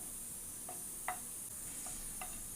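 Cashews frying in oil for brinji rice hiss in a steady, soft sizzle, broken by a few light taps and clicks of a spoon stirring them, with no talking.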